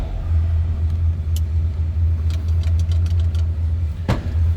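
A 1939 Ford Model 85 pickup engine idles steadily up close, a deep continuous low rumble with faint clicks and a brief knock near the end.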